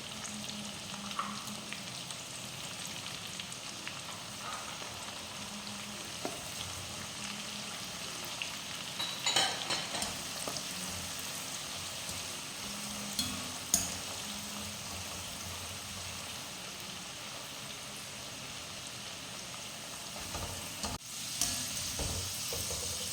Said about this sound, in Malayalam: വെളുത്തുള്ളി ഇഞ്ചിയൊക്കെ ഏകദേശം ചുവന്ന് വരുന്നുണ്ട്